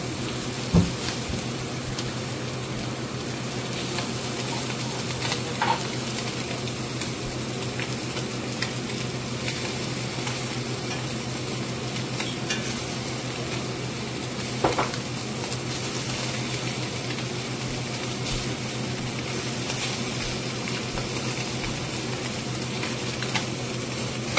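Green chili greens fry in a pan with a steady, dense sizzle, with occasional clinks and scrapes from stirring throughout, close and continuous, no talking.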